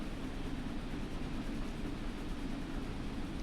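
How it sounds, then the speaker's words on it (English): The old diesel 'Thumper' multiple-unit train in Train Sim World gives a steady, loud, droning engine rumble with broad rushing noise. It holds constant throughout, with no talking over it. "Loud. Very loud train."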